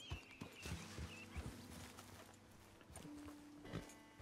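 Horse hooves clip-clop in Red Dead Redemption 2 as a horse is brought to a stop and tied up, a few close, irregular steps over quiet game ambience with a faint whinny.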